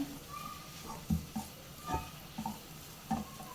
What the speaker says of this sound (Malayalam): അതും കൂടെ ഒന്ന് നല്ലതുപോലെ ഇളക്കി മിക്സ് ചെയ്ത് കൂട്ട് തയ്യാറാക്കിയെടുക്കാം